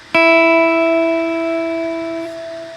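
A single plucked guitar string tuned to high E rings out at a high pitch, sustaining clearly and slowly fading over a couple of seconds.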